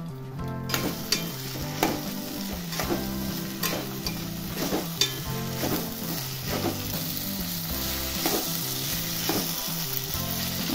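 Mixed vegetables including brinjal and potato sauté in hot oil for a traditional Bhogi mixed vegetable bhaji, giving a steady close sizzle and frying hiss throughout with repeated stirring scrapes and no talking.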